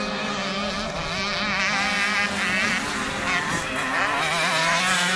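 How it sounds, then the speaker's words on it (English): Junior-class 65cc motocross bikes ridden by children of about nine or ten scream past on the fastest part of a Welsh National circuit, high engines wailing and shifting pitch continuously and loudly throughout. "So we got the junior class now, 65cc bikes."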